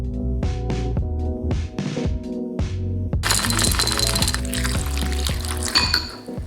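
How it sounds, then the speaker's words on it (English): Dry cereal pours into a bowl in a series of short rattling bursts, followed by a denser, steadier clatter of pieces spilling in, close and fairly loud with no talking. "Pouring myself a bowl of cereal"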